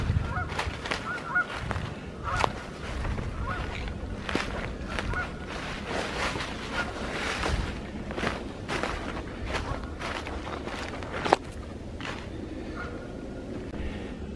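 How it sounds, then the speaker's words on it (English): A flock of geese honks repeatedly near a lake on a forest morning hike, the calls moderately distant and overlapping, with footsteps crunching close by throughout. "I hear some geese."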